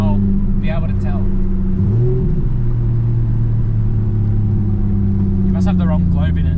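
A Nissan A31 Cefiro with a suspected crank angle sensor fault cranks and revs, its steady low engine rumble rising in pitch around the two-second mark. Voices talk intermittently over the running engine.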